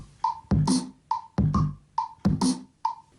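A house drum machine in GarageBand plays a dubstep pattern of punchy kicks, snappy claps and short tonal hits in a steady, repeating loop with no talk.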